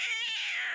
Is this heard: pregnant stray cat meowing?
yes